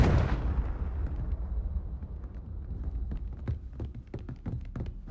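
The Confringo explosive spell in Hogwarts Legacy bursts with one loud blast, then a dense patter of crackling debris and small pops fades and flickers over the next few seconds.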